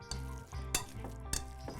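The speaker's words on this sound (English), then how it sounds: "Now you want to mash those to a certain consistency where there's not any large clumps of" Boiled sweet potatoes get mashed in a bowl for a casserole, with a few sharp knocks of the masher against the bowl over a steady wet, sizzling-like squish, close and with no talking.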